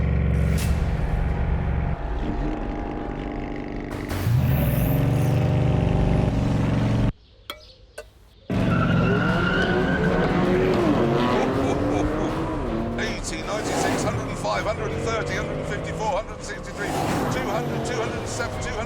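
Bugatti Chiron in a drag race, heard as loud engine roar rising through gears with a brief cut to near silence midway, then a sustained high-revving howl; someone talks over parts of it.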